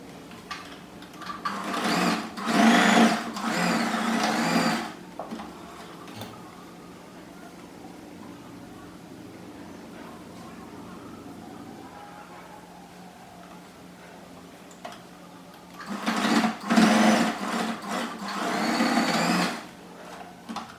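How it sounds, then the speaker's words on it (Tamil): Sewing machine stitching along all four sides of a homemade roti basket, running in two loud, steady bursts of a few seconds each with a quieter stretch of room noise between them and no talk. "இது மாதிரி 4 சைட்லேயுமே நம்ம தைக்கணும்."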